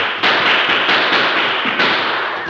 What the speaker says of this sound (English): 3 guns streamed bullets and 2 men fell.